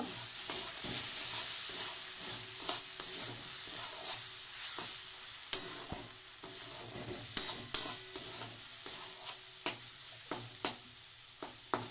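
Fried spices and salt sizzle steadily in a hot pan while a spoon stirs them, with scattered sharp scrapes and taps over the constant hiss, close and moderately loud, with no speech.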